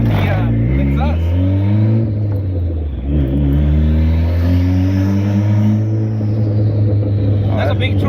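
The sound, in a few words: turbocharged car engine revving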